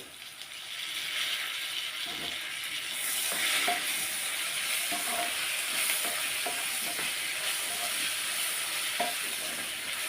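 Tomato pieces fry in a pan for bottle gourd chutney, giving a steady close sizzle with intermittent stirring knocks and scrapes throughout, no one speaking.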